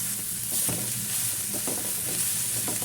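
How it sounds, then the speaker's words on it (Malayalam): Pieces of coconut embryo fry in a pan with a constant close hiss and sizzle, broken by a few stirring scrapes, and no talking. "നമുക്കിത് ഇട്ട് കൊടുക്കാം കേട്ടോ. എന്നിട്ടൊന്ന് ഫ്രൈ ചെയ്തെടുക്കാം."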